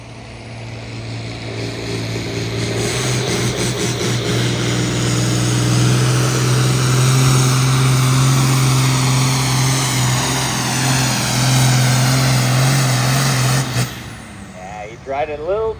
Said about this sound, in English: Healthy sounding engine though. Let's get her fired up.